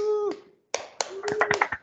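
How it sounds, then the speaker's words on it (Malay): An online class claps briefly: a few separate sharp hand claps come at an uneven pace, heard close and moderately loud after a short voice. "Tepuk tangan sikit"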